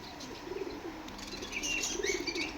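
Pigeons in a pet shop selling foreign birds and cages give soft low cooing and bursts of wing flapping, with faint chirps of other caged birds in the background; nobody speaks.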